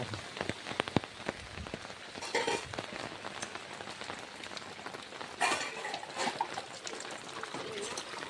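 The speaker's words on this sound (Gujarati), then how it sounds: "આજ તો ફૂલ વરસાદ દેખાય છે" Heavy rain pours steadily, dense and close, with scattered louder drops spattering on surfaces throughout.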